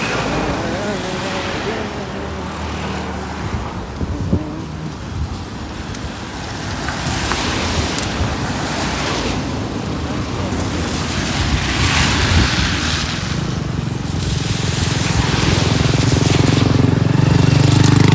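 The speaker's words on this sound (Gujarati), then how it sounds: "ને સાઈડમાં રિવર છે." River beside a mountain road on the route toward Badrinath and Kedarnath after heavy evening rain gives a loud, steady rush, heavily buffeted by wind on the microphone, with people talking over it.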